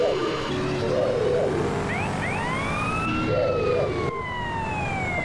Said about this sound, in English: A police car.